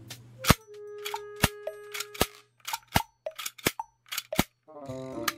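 An Army Armament Glock 18C gas blowback airsoft pistol with a resin barrel fires a string of sharp, clacky shots, some ringing metallically, followed by a rattling burst of rapid fire.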